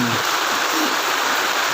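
Heavy rain pours down outdoors by a chick coop, a loud, dense, unbroken hiss of water striking surfaces at close range, steady throughout with no gaps.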